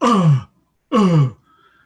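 A voice gives two short, forceful "uh" grunts separated by a brief silence, imitating the sound of being punched in the gut; close and loud.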